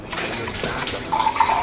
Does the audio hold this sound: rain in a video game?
no